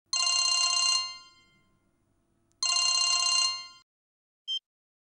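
A telephone rings twice in loud, close electronic bursts with a pause between them, followed by a short faint chirp.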